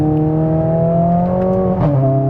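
Mercedes-AMG A45 S, a 500 bhp car, accelerating hard on launch from wet ground: a loud, steady engine drone rising in pitch, with a brief dip and recovery near the end as the car shifts gear.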